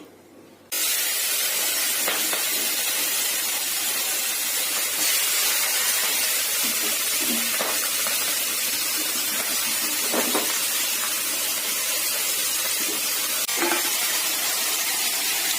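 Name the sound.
bay leaf, onion, ginger, green chilli frying in hot oil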